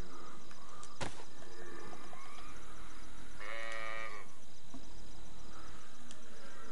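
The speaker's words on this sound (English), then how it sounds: "I can hear the other sheep." Sheep bleating in the DayZ video game, one short bleat standing out mid-clip against a faint outdoor ambience with insect-like chirps and an occasional sharp tick.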